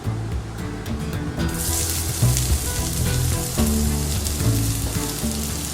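One large thinly sliced onion dropped into hot oil with bay leaves and spices for egg biryani, a quiet start that bursts into a loud, dense, continuous sizzle, close up, with occasional clinks and stirring knocks underneath, no voices.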